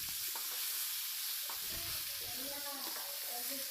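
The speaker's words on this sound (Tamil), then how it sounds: "சேர்த்துட்டு இப்போ இதை வந்து நல்லா வதக்கிக்கலாம்." Onions and curry leaves sautéing in a pan for Tamil chicken sukka, a dense steady sizzle with occasional spatula scrapes, close and continuous, nobody talking.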